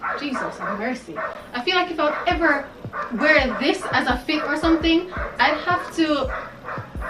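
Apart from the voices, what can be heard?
dog barking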